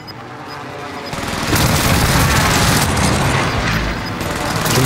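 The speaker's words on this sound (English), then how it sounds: "Allied precision airstrike incoming" Precision airstrike explosions in a Call of Duty battle royale match: after a brief quiet lead-in, a sudden burst swells into a sustained, loud barrage of rumbling blasts and rattling impacts that keeps rolling to the end.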